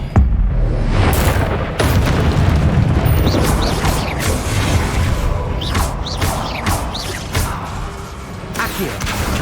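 Expelliarmus spell effect in Hogwarts Legacy, a loud magical blast with booming impacts and whooshing bursts that repeat over several seconds amid continuous game noise.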